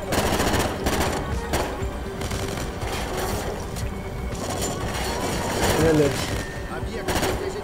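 Gunfire in the video game Call of Duty: Ghosts: rapid machine-gun bursts and scattered shots rattle throughout, with someone talking excitedly over them.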